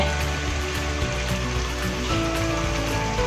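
Yakhni broth poured into potatoes cooking in a pot for aloo methi, a steady loud sizzling hiss and bubbling wash with a low rumble, continuous and close.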